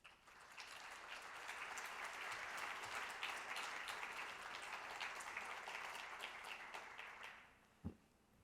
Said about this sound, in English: Please welcome Minister Kim with a warm round of applause.